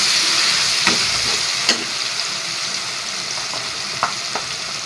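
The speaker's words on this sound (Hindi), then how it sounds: "अब लाल मिर्च डालेंगे इसके ऊपर, और इसको मिक्स करेंगे।" Pumpkin and chana dal with red chili sizzle and hiss in a hot pan while a spoon stirs them, with a few light scraping knocks against the pan over the steady frying.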